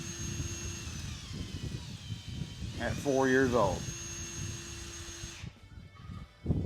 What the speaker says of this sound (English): learning how to drill with a real drill bit